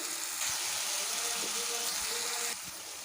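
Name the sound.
frying eggplant rolls with spice batter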